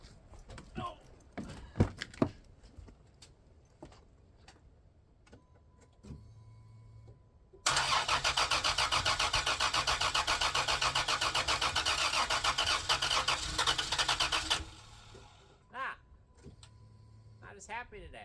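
A 2000 Chrysler Grand Voyager SE, off the road for over eight years, cranks with a loud, rapid churning whir for several seconds, then stops. Scattered clicks and soft speech-like sounds come before and after.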